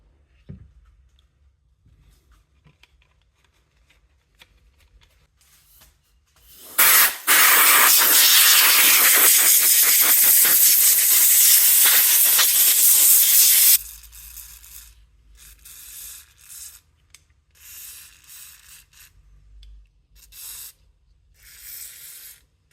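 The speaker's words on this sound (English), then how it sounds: "we finished hitting it with the WD-40 and drying it off" WD-40 sprays onto rust-cleaned vintage bicycle pedals in one loud, sustained hiss lasting about seven seconds. Quieter handling noises come before and after it.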